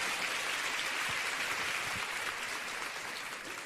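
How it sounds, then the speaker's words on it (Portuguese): An audience applauds Dr. Esli Carvalho at a church women's event, with dense, even clapping that fills the whole stretch and fades slightly toward the end. "Vamos aplaudir a querida doutora Esli Carvalho."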